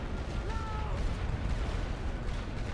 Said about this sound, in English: At least my artillery got a shot on some stationary enemy troops for a moment